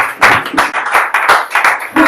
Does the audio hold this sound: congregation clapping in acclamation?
yes